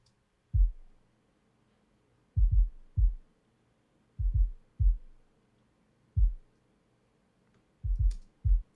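A tightened kick drum sample plays as about ten short, punchy low thumps with quick decay, some in single hits and some in close pairs, against near silence.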